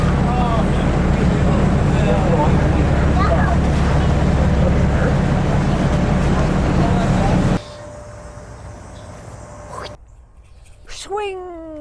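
Steady low engine rumble and wind noise of a Toronto Islands ferry underway, with a voice chattering over it, then the drone cuts out to quieter sounds.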